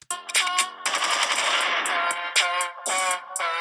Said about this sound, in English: I have the loading gun before the machine gun and then the gunshot